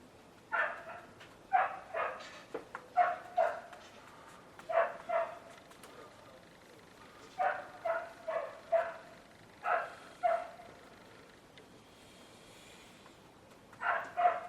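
A neighbour's dog left in a garden barks in short repeated bursts of two or three, moderately distant, with pauses between volleys.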